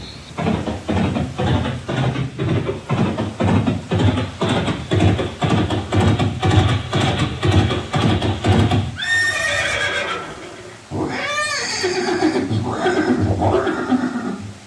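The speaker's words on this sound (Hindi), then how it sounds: "ये दृश्य महाराणा प्रताप और सुविख्यात स्वामी भक्त घोड़े चेतक के अंतिम मिलन का है" A horse at a Haldighati memorial scene, recorded close and loud: a long run of steady clip-clop hoofbeats is followed by several shrill, quavering neighs and whinnies.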